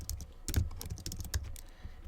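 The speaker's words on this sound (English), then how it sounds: "then I'm going to type the name of the application" Typing on a computer keyboard, close and fairly quiet, with irregular bursts of clicking keystrokes and short pauses between them.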